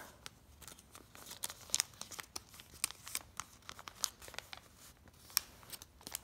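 Paper being folded for an origami Santa hat, with close, crisp crinkling and creasing rustles in quick irregular bursts and no talk.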